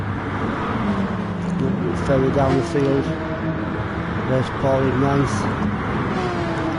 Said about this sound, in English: Loads of cars in the mix here.